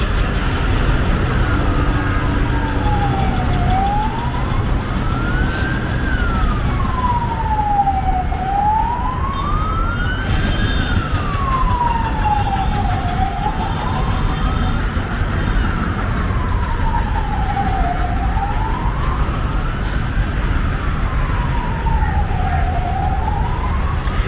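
An ambulance siren wails in a slow rising and falling cycle over constant heavy expressway traffic roar near a waterfront, loud and continuous throughout.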